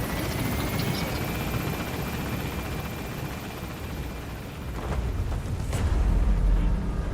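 A helicopter in Metal Gear Solid V gaining altitude, a loud continuous rotor roar and engine drone filling the scene, swelling slightly near the end.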